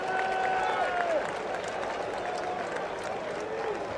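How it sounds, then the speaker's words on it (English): Stadium crowd at a 1986 World Series game between the Red Sox and Mets applauds as an injured first baseman leaves the field, a broad steady wash of clapping and cheering that holds evenly throughout with distant crowd noise. "he gets a well-deserved round of applause for his gutsy playing on a bad leg"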